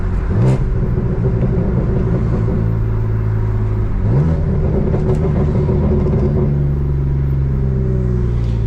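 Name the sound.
car engine revving while downshifting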